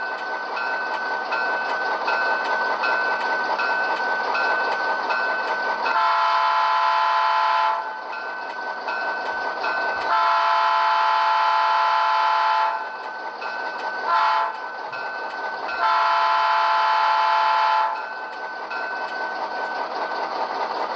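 An Athearn GP9 model locomotive with a Tsunami 2 sound decoder plays diesel engine rumble with repeated horn blasts, several long and short tones over a steady engine drone, clear and close.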